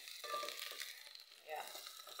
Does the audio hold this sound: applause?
no